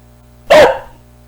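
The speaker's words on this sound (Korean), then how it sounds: "강아지 소리가 나면서" A single sharp dog bark, loud and close, standing alone against a quiet background.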